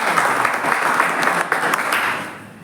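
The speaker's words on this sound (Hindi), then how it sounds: "ताली बजा दो" An audience at a Dreamlite success event breaks into brief applause, a burst of close, busy clapping that carries for a couple of seconds and then tapers off.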